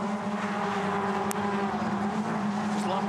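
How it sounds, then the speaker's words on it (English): Toyota 86 race cars driving through a section of the Sandown circuit, a steady continuous engine drone with shifting pitch, loud and close throughout with no talk. "Just love watching any race car through this part of the circuit."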